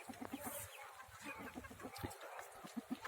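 A group of chickens clucking softly and continuously nearby, with low, rhythmic murmuring calls overlapping one another.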